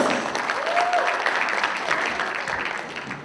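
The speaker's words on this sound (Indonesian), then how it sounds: "Tepuk tangan untuk Benny Arnas." Audience applause for a poet at a literary solidarity event for Palestine, a dense wash of clapping held for a few seconds, fairly even and moderately loud, with no voices over it.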